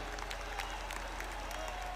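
Faint, steady applause from an audience at a Hindi poetry recital, a thin continuous patter of clapping heard from a distance with no talk over it.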